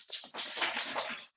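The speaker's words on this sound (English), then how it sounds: "Excuse my dog's head shaking noise." A dog shakes its head, its ears flapping in a quick, loud, papery rattle that lasts just over a second, close by and with no voices.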